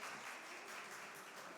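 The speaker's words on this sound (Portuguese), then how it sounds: "Podemos até bater palmas" A congregation at a Sunday Baptist church service claps together briefly. The even, rustling round of applause is fairly soft and steady, with no talking.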